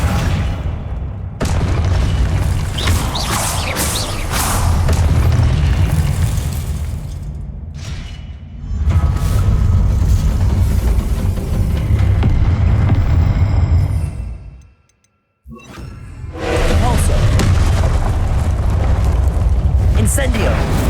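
Confringo blasting-spell explosions in the video game Hogwarts Legacy, heavy booming blasts with rumbling low-end bursts repeating through the clip, separated by a brief near-silent gap, mixed with game effects and spell chatter.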